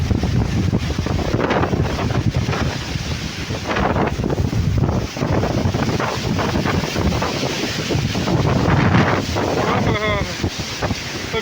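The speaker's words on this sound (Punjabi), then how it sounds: "ਹਵਾ ਬੜੀ ਜ਼ਿਆਦੀ ਆ ਬਹੁਤ ਰਫਤਾਰ ਆ" Strong, gusty wind roars continuously against the microphone outdoors near a village, loud and buffeting throughout with no pauses.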